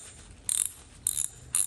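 A rusty Powercraft socket ratchet under repair gives three short bursts of crisp metallic clicking, turned clockwise and then counterclockwise, close up and fairly quiet with no speech.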